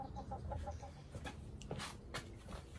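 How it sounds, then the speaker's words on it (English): Backyard chickens clucking at a family home, a quick run of rhythmic clucks at the start followed by scattered bird calls and faint rustling outdoors, moderately quiet. "We got chickens."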